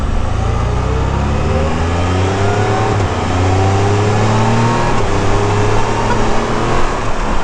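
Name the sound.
demo motorcycle accelerating at Sturgis Rally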